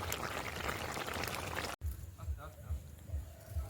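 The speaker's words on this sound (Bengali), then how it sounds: "এবার আমি একটা পাত্রে ঢেলে নেব" Cooked curry is tipped from the pan into a bowl, a loud, dense pouring rush that stops abruptly and then gives way to quieter kitchen clatter.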